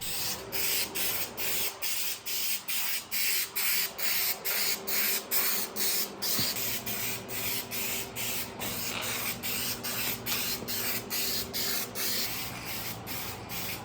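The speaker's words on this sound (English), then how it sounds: "let you guys again enjoy these glorious Rattle-Can sounds" A spray paint rattle can hisses in quick, rhythmic bursts while painting a car fender, close and loud, repeating steadily from start to finish.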